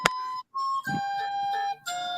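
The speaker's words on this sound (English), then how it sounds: "Sorry, that was my phone." A mobile phone ringtone playing a bright ice-cream-truck-style jingle, a short run of clear electronic tones with brief pauses, fairly loud and close, with no talking over it.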